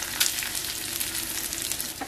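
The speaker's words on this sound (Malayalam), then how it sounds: "ഇനി നേരത്തെ പോലെ തന്നെ നന്നായിട്ട് വറുത്തെടുക്കുക." Grated coconut fries in a pan of oil with popped mustard seeds, fenugreek, dried red chillies and curry leaves for an Onam sadhya dish, giving a steady close sizzle with light stirring scrapes throughout.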